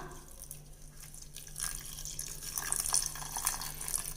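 Water trickles and splashes softly into a vessel holding jaggery for a sweet ukkarai dish, a faint, close pouring and dripping with no talking.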